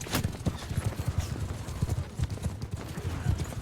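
Cavalry horses in the Mount & Blade 2: Bannerlord video game gallop in a dense, continuous drumming of hooves, with fast overlapping beats sustained at moderate loudness amid battle noise.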